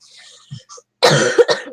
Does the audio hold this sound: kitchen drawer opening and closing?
no